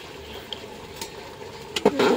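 Onions frying in ghee for chicken dum biryani, a soft steady sizzle with a few clinks and scrapes, rising into a louder burst of crackling near the end.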